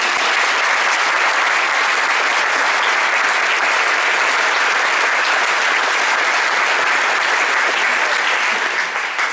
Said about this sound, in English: So please join me in a round of applause for these outstanding